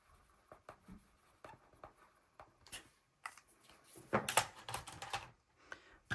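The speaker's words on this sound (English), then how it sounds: "Sharpie's going dead, but it's kind of working." A drying Sharpie marker scratches across paper in short, close strokes with irregular rhythm, a few louder scribbles near the end, and no talking.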